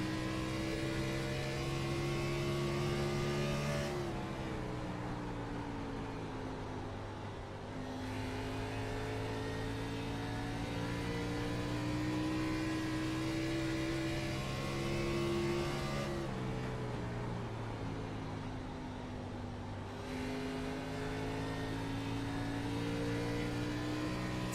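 A race car engine in the iRacing sim on an Xfinity Series oval at Iowa, holding a steady high drone under throttle and dipping briefly twice as it starts to wind down, then pulling straight back up, heard alone.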